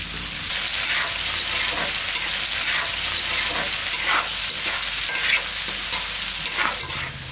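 Bell pepper strips sautéing and stirred in hot oil in a pan, a steady loud sizzle with repeated scraping stir strokes throughout, no voices.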